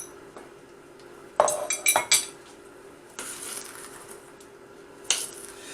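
Chopped boiled hot dogs stirred into baked beans in a pan, with a burst of clinking metal-on-pan scrapes and knocks, then a quieter stretch and one more clink, no talking.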